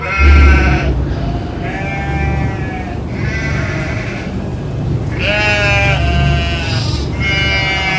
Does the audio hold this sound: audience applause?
no